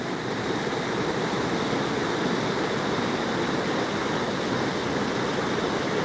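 A waterfall on a forest hiking trail gives off a continuous, even rushing roar, steady and unbroken throughout with no other sounds standing out.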